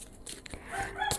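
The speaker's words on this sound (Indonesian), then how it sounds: "Aduh, ada aja ayam itu ya" A chicken clucks and calls in the background outdoors, a few short squawking bursts over a steady background noise, moderately loud, with no speech.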